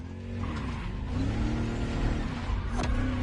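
A luxury hypercar with four-figure horsepower, driven in the racing game The Crew Motorfest, holds a loud, steady engine roar with a brief tire squeal near the end, heard alone without talk.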